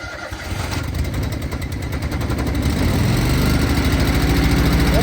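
A gas engine-driven welder on a farm cranks and fires, then runs on with a loud, close, throbbing idle that steadies and builds slightly, with no talking.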